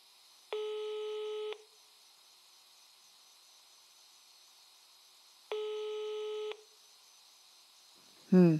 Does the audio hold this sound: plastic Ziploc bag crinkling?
no